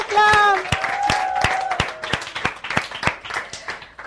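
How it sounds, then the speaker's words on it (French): Children clap and applaud for a little boy presented as a pastor at a Christmas gathering, a scattered burst of claps with tonal voices and a high chime at the start, settling into steady uneven clapping. "Les enfants, on l'acclame."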